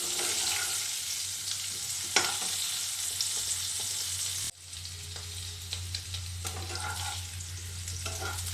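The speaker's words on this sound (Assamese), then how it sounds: "এখিনি মই হাই ফ্লেমত ফ্ৰাই কৰিম কাৰণ মোৰ আগতে বইল কৰি থোৱা আছে" Boiled potatoes frying in a pan on high flame, a close, continuous sizzle with stirring scrapes, briefly dipping midway before resuming just as strong.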